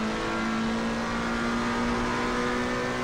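Sim racing car engine droning steadily at high revs with a constant tonal whine, the rumble of running over a trackside curb blended into continuous, loud engine noise.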